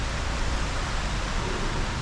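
Steady, dense rain at a Brazilian beach area, a continuous even hiss without breaks.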